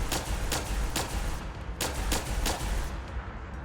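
Semi-automatic energy weapon from a Fallout 4 weapons mod firing in single shots, roughly eight evenly spaced discharges about half a second apart, loud and close over a steady rumbling game background.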